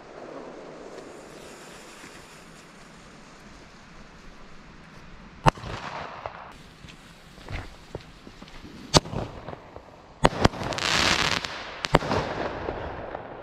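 New Year's Eve fireworks from a Black Edition item with a pre-burner: a hissing, crackling lead-in followed by several sharp bangs and crackle bursts, loud and close, over steady wind-like background noise.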